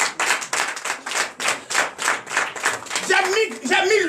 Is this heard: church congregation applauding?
yes